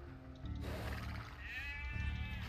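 Sheep bleating in the Age of Empires II game, several bleats rising over a low steady background hum, fairly close and clear.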